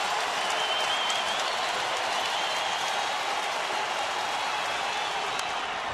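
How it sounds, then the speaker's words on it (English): A baseball stadium crowd of over 50,000 roars during a tense ninth inning, a dense, steady wash of cheering and noise that holds at an even level from start to finish. "listen to this crowd, and everybody's up"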